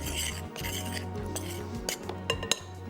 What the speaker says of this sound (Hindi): इसको भी करना है अच्छे से हमने विस्क के साथ मिक्स।